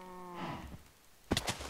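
A Minecraft cow gives one short low moo, followed by a pair of quick clicky thuds; quiet and close, with no talk.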